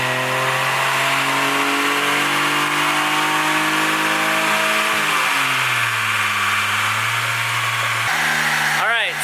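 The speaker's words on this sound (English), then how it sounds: "we did 2 dyno pulls" A Smart car engine revs hard on a dyno, a loud, steady, buzzing drone that climbs through the gears, dips, then rises again before cutting off at the end.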